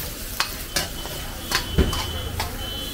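Spatula knocking and scraping through noodles in a pan with a faint sizzle underneath, four or five sharp irregular strokes up close over steady frying noise.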